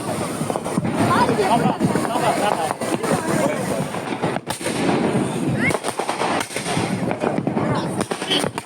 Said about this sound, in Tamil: சிறுவர்கள் முதல் பெரியவர்கள் வரை பட்டாசு வெடித்து ஆனந்தம் அடைந்தனர்